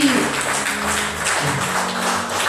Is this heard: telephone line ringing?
no